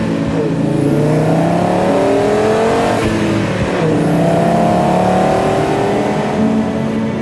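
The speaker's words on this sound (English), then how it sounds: "Whenever a car like that is passing by, you hear this is a 5-cylinder." An Audi five-cylinder car revs hard and sweeps past twice, each pass a loud rising engine note that peaks and drops away, with a steady roar between, close and with no talking.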